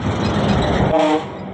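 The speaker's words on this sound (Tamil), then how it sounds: "ஏகப்பட்ட லோடு லாரி போகுங்க" A heavily loaded truck rumbles past close by, its engine roar steady and loud, with a brief horn-like tone near the end before the noise drops.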